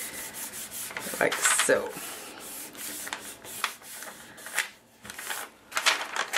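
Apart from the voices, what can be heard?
rubbing paper pattern piece on a birthday card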